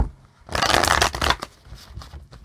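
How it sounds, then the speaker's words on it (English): A deck of cards is shuffled in a quick riffle, a brief burst of fluttering snaps up close, then a few softer taps. "Let's grab a couple shuffles here and see where we rock into."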